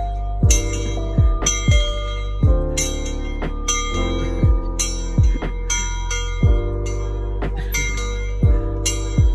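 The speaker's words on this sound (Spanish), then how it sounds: "Espera, ¿quieres tocar la campana?" A bell rung by hand on a circular hiking trail along the Ribera del Ciudadeja near Las Navas de la Concepción rings out in about nine clear, ringing strikes at a steady pace. Each strike is loud and close, with a long fading tail.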